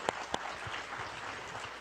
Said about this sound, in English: And you've got a cheering section over there.